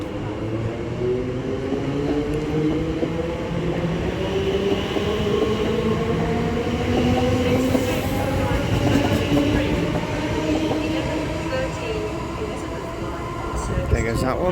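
Class 345 train 345025 pulling out of Ilford station in London, a moderate rising electric motor whine with rolling wheel noise and faint squeal, someone talking over it.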